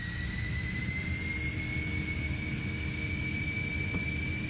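Jet-powered train in Train Simulator 2017 hauling coaches out of Newcastle, a steady loud engine roar with a high whine running underneath, continuous for the whole stretch with no speech.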